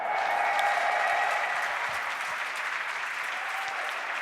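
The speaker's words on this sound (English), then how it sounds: "Let's give it up again for Alliance and Loda here" Sustained audience applause at the Dota 2 Frankfurt Major esports event, a dense, steady wash of clapping from a large arena crowd that holds loud throughout and eases only slightly toward the end.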